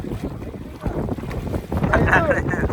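Wind gusts across open sea from a small boat, a steady rushing roar with buffeting on the microphone that strengthens toward the end.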